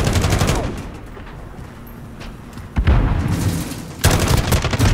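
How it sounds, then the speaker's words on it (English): A light machine gun with its stock removed fires in a 10 versus 10 first-person shooter game: loud rapid bursts at the start, then a quieter gap, then two more sharp close bursts. "Guys, this is a whole light machine gun."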